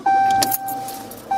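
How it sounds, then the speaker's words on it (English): A car is switched on while a charger is plugged into it, giving a steady electronic chime tone, a brief jangle of keys and a soft click, then the chime returning near the end. "I'll turn on the car."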